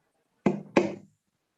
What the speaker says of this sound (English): Hark, more knocking.